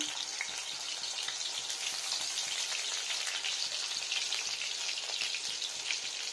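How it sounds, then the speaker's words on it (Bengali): Ginger pieces fry in hot mustard oil with a steady, bright crackling sizzle and dense spattering pops, heard close and unbroken. "Mustard oil. এখানে দিয়ে নিচ্ছি আদার টুকরোগুলো"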